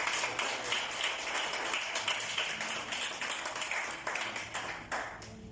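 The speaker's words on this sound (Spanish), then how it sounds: "Eso merece un fuerte aplauso" A church congregation breaks into sustained applause, a dense wash of many hands clapping that is fairly soft and steady for several seconds before tapering off slightly.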